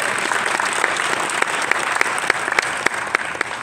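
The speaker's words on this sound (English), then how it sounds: "yes, give her a round of applause," Audience at a luncheon keynote event applauding, a steady wash of clapping from many hands with sharper individual claps standing out, continuous and fairly loud throughout.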